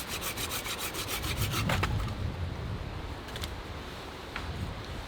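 A hand saw rasps through wood in quick back-and-forth strokes, rhythmic and close, then slows into a few rougher scraping passes.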